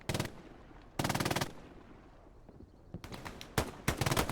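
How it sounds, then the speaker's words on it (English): Machine gun fire in an online multiplayer match, loud rapid bursts separated by short pauses, a sustained burst followed by several quick volleys near the end. "Mazia running the MG."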